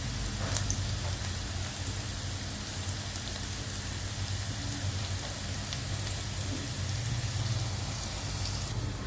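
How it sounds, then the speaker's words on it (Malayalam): Sliced onions frying in a pan with a pinch of salt and sugar, giving a continuous, even sizzle that holds steady throughout with no talking. "അപ്പോൾ നമ്മൾ സവാള ഫ്രൈ ചെയ്തതായിട്ടുണ്ട്."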